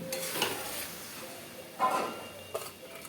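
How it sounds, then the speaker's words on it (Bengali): A spoon stirs flat beans and sugar in a pan, giving a few soft scraping strokes over a low sizzle, heard close and with no voices. "চিনি দিয়ে আরও 1 মিনিট একটু নেড়ে চেড়ে নেব।"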